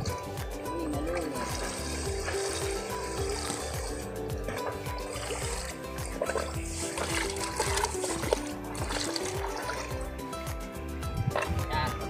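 A liquid mixture for organic land preparation is stirred continuously, with close sloshing, splashing and trickling in an even churning rhythm throughout.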